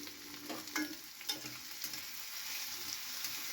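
Vegetables for soya chilli shallow-frying in a pan with a little oil, giving a faint, steady sizzle with a few soft stirring clicks, close by and without voices.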